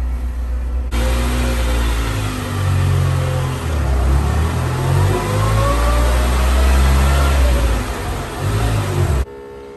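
A 1976 Toyota Celica RA2 engine idles just below 1,000 rpm, a loud, steady, slightly uneven rumble running for most of the stretch before cutting off near the end.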